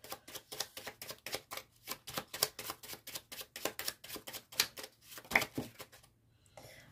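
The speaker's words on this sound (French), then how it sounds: "Alors, je tire 2-3 cartes." Tarot cards being drawn and handled, a quick run of crisp, close snapping flicks and shuffles in steady rhythm that fades to quiet at the end, with no talking.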